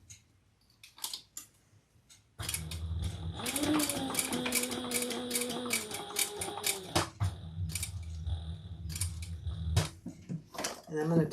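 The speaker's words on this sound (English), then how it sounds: "And we're going to sew up and around." A sewing machine stitches a handbag, running steadily for several seconds with a mechanical whir and rapid needle rhythm, preceded by quieter handling noises and followed by short bursts and clicks as the fabric is turned.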